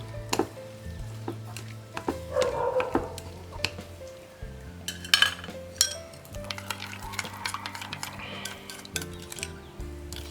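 Pickled carrots and radish are stirred together for a mangosteen chicken salad, with close, irregular clinks and taps of a utensil against a bowl and soft mixing rustles.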